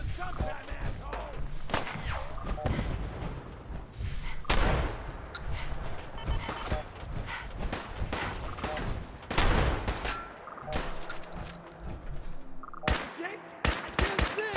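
Video game gunfire in Dumb Ways To Die, with dense bursts of rapid shots and loud single cracks going off repeatedly amid chaotic battle noise, while voices shout and talk over it.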